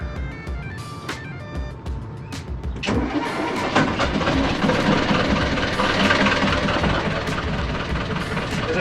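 A sailboat's outboard engine cranks a few times, then catches at about three seconds and runs steadily and loudly after starting.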